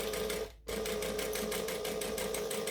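A sewing machine back stitching a wristlet, a steady fast mechanical whirr with rapid needle rhythm, close and loud, briefly pausing once before resuming.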